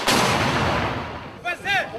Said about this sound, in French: les hommes déchargent leurs armes n'importe où et dans toutes les directions.